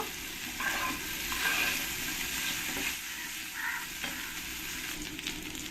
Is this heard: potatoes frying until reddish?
yes